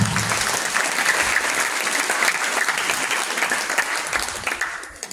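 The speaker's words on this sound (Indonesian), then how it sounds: "Kita beri tepuk tangan." An audience at the Piala HB Jassin 2024 literary award ceremony in Indonesia applauds in a dense, sustained wash of clapping that stays loud throughout and eases slightly at the end.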